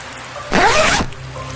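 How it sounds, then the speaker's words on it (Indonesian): A tent zipper is drawn open slowly in one smooth, rasping pull lasting about half a second, close and fairly loud against a quiet background. "membuka resleting tenda perlahan"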